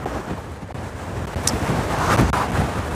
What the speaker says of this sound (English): Whew, so much wind.